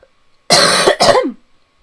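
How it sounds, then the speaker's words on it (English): One loud, harsh cough sounds close to the microphone, breaking into two bursts over about a second. It comes from a speaker who has a cold, with silence before and after. "apologies for that definitely deafening cough"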